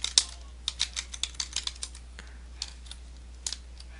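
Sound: typing code on a computer keyboard

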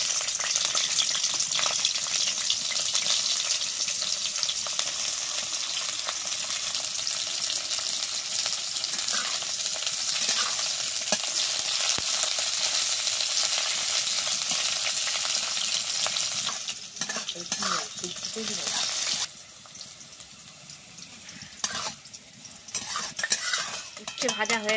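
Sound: bitter gourd frying in oil in a wok

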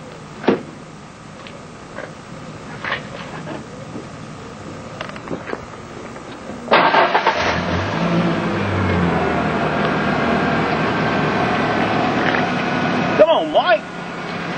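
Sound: truck engine starting and running

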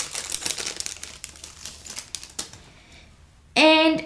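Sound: plastic packaging being opened

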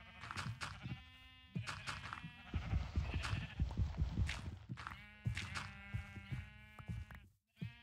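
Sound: sheep bleating in the video game Minecraft

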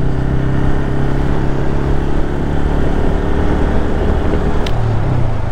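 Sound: Bajaj Pulsar N160 motorcycle exhaust while riding

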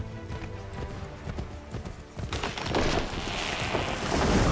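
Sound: horse galloping in video game Assassin's Creed III Remastered

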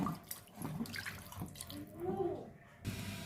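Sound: water from washing greens poured into ground greens

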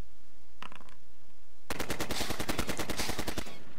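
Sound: gunfire in the board game video game Heroes of Normandie

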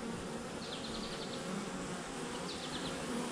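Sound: honey bees buzzing around the hive

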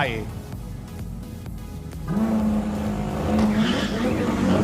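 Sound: Ferrari SF90 and McLaren 720S launching at drag race start

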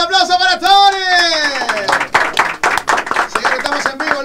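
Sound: audience applause in radio studio

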